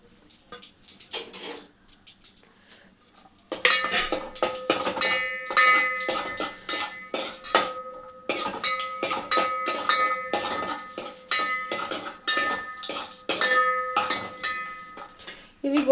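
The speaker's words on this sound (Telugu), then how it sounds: "ఇవి గోల్డెన్ కలర్ వచ్చేంత వరకు ఇట్లా వేయించుకోవాలండి" Dry fruits frying and being stirred in ghee in a pan, a spoon clinking and scraping against the metal in quick, irregular strokes, close and fairly loud, following a quieter opening with faint talk.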